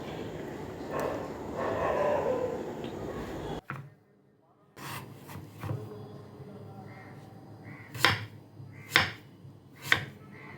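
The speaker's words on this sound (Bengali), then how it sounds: "ওই জন্য ছোটো করে কুচিয়ে দিচ্ছি" A knife chopping taro (mankochu) into small pieces on a board: a patch of rapid, dense scraping chops, then a pause, followed by separate sharp knocks spaced about a second apart, close and fairly quiet.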